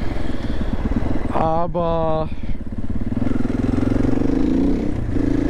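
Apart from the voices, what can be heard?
motorcycle engine while riding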